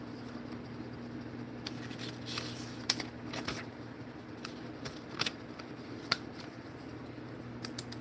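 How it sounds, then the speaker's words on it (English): A pen scratches across a small notebook page in soft, close, intermittent strokes over a steady background hum, with a few faint clicks and taps between the strokes. "Write it down in my little YouTube swag notebook."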